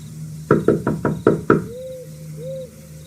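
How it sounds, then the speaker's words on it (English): Six sharp knocks on a door land in a quick, slightly uneven run, loud and close, followed by a couple of faint, soft tonal sounds in an otherwise quiet space. "I knocked 1 more time out of desperation"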